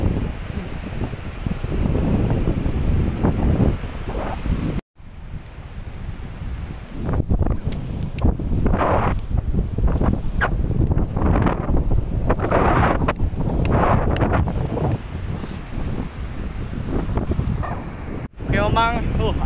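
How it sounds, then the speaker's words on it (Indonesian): Strong wind blowing at Cirewang beach in Subang, West Java, buffeting the microphone in a loud, continuous roar with surf and gusts underneath, nearly unbroken for about twenty seconds. "Emang angin mulai berhembus gitu."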